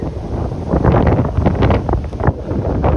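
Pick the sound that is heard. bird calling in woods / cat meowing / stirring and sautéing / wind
wind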